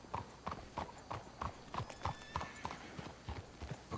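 Horse hooves clip-clop in Red Dead Redemption II, a steady, evenly spaced walking rhythm of sharp knocks, fairly faint, with no voices over them.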